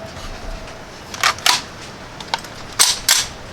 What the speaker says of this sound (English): we're just going to do some single shots again